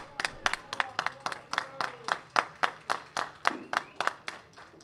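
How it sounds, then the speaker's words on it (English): A small audience at a 2014 East vs West nine-ball pool challenge match gives a sparse round of applause, about a dozen distinct, evenly spaced hand claps, close and fairly quiet. "How about a round of applause"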